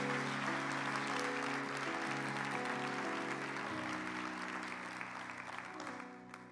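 A church congregation breaks into loud, sustained applause, a dense wash of clapping hands that carries on steadily and fades slightly toward the end.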